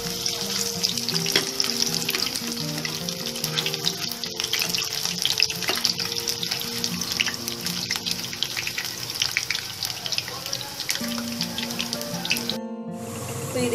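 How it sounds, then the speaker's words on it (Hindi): Pakoras fry in hot oil as they are turned, a dense continuous sizzle and bubbling with some clinks and a brief gap near the end, fairly loud and close. "देखिए मैंने अपने ये बना लिए पकौड़े, इनको पलट के मैं इनको ब्राउन हल्का ब्राउन करूँ।"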